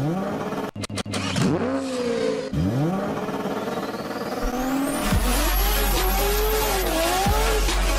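A McLaren 720S engine revving hard and accelerating through gear changes, a loud rising wail that drops and climbs again with each shift, building to a sustained high-pitched scream up close.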